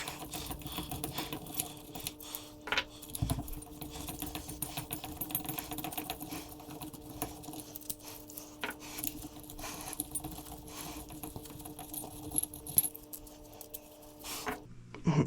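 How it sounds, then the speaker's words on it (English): Hand tools working the bolts out of the rear of a Datsun project car: continuous metallic ratcheting, clinking and small taps at close range, with a few louder knocks near the end. "gonna take all the bolts out of the back of that thing too"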